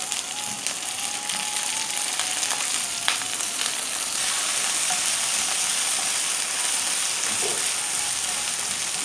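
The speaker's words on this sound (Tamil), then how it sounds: "இப்போ உருளைக்கிழங்கு போட்டுக்குவோம்" Potatoes fry in a pan of oil for a tempering, a constant loud sizzle with a few faint clicks and spoon taps over it.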